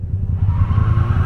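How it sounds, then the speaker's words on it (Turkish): A car burns rubber on a street, a loud steady engine roar with a rising tire squeal running continuously through the short stretch, up close. "Adam lastik yakıyor."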